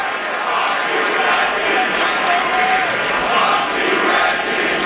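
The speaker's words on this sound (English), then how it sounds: "The Garden crowd here saying hello to former friend Reggie Miller" Madison Square Garden crowd greeting former Indiana Pacers star Reggie Miller during a Knicks playoff game, a dense, continuous roar of voices heard at a distance, steady throughout without a clear break.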